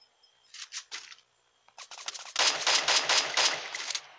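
Rapid bursts of gunfire from the Free Fire video game: a few short shots, then a sustained loud automatic volley crackling near and alone.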